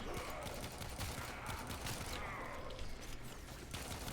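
Sustained, dense gunfire from the Warframe video game during an early boss fight: rapid overlapping shots and mechanical clatter that run without a break for the whole stretch.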